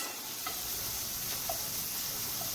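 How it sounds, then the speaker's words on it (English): Portobello mushrooms sautéing in butter in a pan, giving a steady soft sizzle with a few faint stirring clicks, close and continuous with no talk. "So you want to saute them in the butter."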